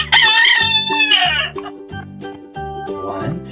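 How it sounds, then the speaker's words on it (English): Toy roosters sound off with a loud electronic crow at the start, layered over a steady, cheerful backing tune that carries on afterward. "Two roosters."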